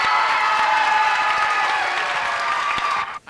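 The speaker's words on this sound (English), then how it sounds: "please give a nice warm round of applause to Mr. Tim Henry" An audience at a Muscular Dystrophy Association event in Dayton gives a warm round of applause, a dense even wash of clapping and light cheering that cuts off abruptly after about three seconds.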